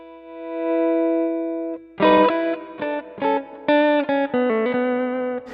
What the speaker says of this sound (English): A little bit more reverb than the other patch